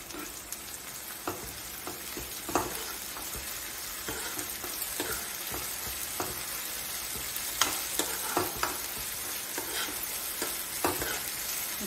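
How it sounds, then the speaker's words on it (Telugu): Ginger garlic paste frying with browned onions in a pan for chicken curry, a steady dense sizzle with scattered stirring clatter throughout, close and without talk. "ఇదిగోండి ఉల్లిపాయ వేగిపోయింది, అల్లం వెల్లుల్లి పేస్ట్ వేసాను."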